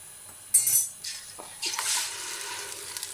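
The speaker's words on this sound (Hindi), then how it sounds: "घी गर्म हो चुका है और इसमें मैंने अभी ग्राइंड किए हुए ये प्याज डालूंगी इसमें" A metallic clink is followed by a sudden hiss as ground onions hit hot ghee for Lahori chikar cholay, then a softer sizzle that continues close by.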